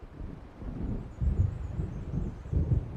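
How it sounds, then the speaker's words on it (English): Low thunder of an approaching storm in Alan Wake Remastered rumbles for about three seconds with several rolling swells, deep and heavy, over a steady wind-like hiss, with no voices. "It seems there's a storm coming."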